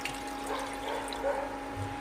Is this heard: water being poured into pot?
yes